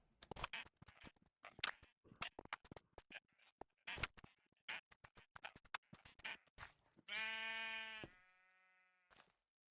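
Minecraft gameplay with a blocky scene of sheep: a quick run of scuffing footsteps and clicks, then a clear sheep bleat followed by a softer, fainter second bleat.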